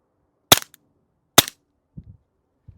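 Two sharp, suppressed gunshots come from a .22 LR handgun fitted with a silencer, spaced about a second apart. Each is a crisp crack with a short tail, followed by faint low thumps like casings or handling.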